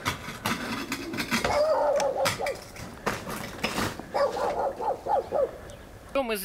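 Several dogs arrive at a hotel gate in South Africa after the bell is rung, barking in repeated short bursts at moderate distance, with clattering and people talking over them.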